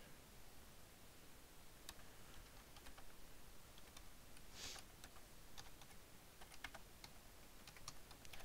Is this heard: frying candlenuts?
no